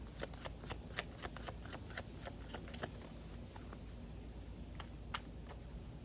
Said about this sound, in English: Cards aren't wanting to shuffle today very well.